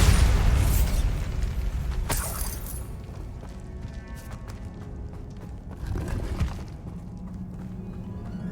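A Bombarda spell explosion goes off in the Hogwarts Legacy video game, a loud booming blast at the start that fades into rumbling debris, followed by a second, smaller crash a few seconds later.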